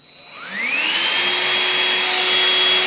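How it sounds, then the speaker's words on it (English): A Rowenta Dual Force 2-in-1 cordless handheld vacuum cleaner (RH6735) switches on, whining up to full speed within half a second and then running as a loud, steady drone at its single speed, close by and alone. "The on-off switch for the small vacuum."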